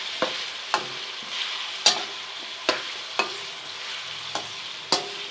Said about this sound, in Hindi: लहसुन अदरक को भी थोड़ा सा फ्राई करते हैं।